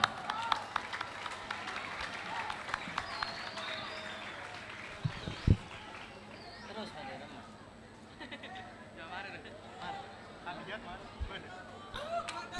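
Audience applause at an Islamic boarding school (pesantren) graduation and exam ceremony, a busy crowd noise of clapping, chatter and shuffling with a loud bump near the middle, continuing throughout.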